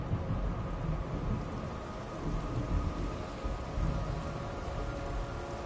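Steady rainfall in the video game Metal Gear Solid 3: Snake Eater hisses evenly with a low rumbling undertone, continuous and moderately loud, with no voices.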